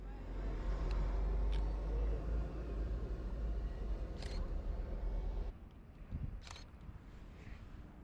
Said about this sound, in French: il commençait à y avoir beaucoup de véhicules qui passaient